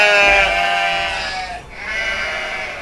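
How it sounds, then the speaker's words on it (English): Sheep bleat loudly and close by in a long, wavering cry that dips briefly and then rises again into a second sustained bleat, with no talk over it. "Can you not turn those sheep down a bit?"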